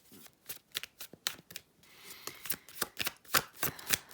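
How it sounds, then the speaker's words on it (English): Tarot cards from the Thoth deck being shuffled, a run of crisp riffling flicks and snaps in a quick irregular rhythm, close and clear with no talking. "I feel like I want to get one more card from the Thoth deck."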